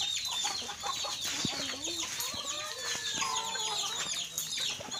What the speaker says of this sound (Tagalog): may manok din po